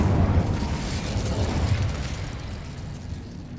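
Incendio fire spell cast in Hogwarts Legacy, a loud sustained explosive whoosh and crackling burst with heavy low rumble that gradually fades over a few seconds.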